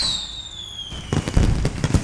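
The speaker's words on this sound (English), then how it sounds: "Fireworks in daytime." Daytime fireworks burst in a rapid string of loud cracks and pops, following a fading high whistle as a rocket rises.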